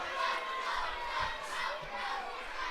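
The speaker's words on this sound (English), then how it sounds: "the crowd behind us are absolutely loving it" Football crowd at a Chorley vs Alfreton Town match, a steady roar of cheering and shouting fans that swells and dips throughout, with no clear break.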